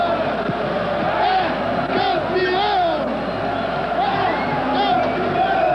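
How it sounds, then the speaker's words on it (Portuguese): A large stadium crowd roars and chants continuously at a Palmeiras versus Corinthians football match, with a voice talking over the din. "Jogadores vibram junto com a galera, os aplausos."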